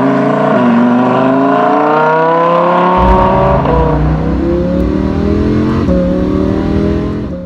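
A Lamborghini Huracan with a dual-clutch gearbox accelerates hard, its engine note climbing in loud sweeps broken by several very quick upshifts, each a sharp dip before the revs rise again, with no talk.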